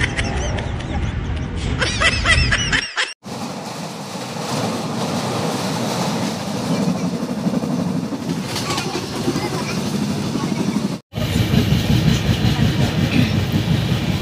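A passenger train runs on rails with a continuous rumbling, clattering roll heard from inside, loud and steady. There are two brief dropouts, and voices come through near the start.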